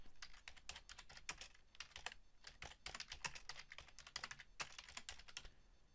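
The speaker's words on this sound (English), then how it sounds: "If you want to change any text you simply select it and type over it." Fingers type on a computer keyboard while editing text on an ecommerce website, quick irregular bursts of close, crisp key clicks with brief pauses.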